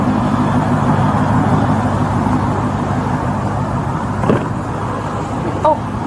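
A car left with its engine running at a roadside traffic stop, a steady low rumble holding throughout with faint passing traffic and brief knocks, no clear talk.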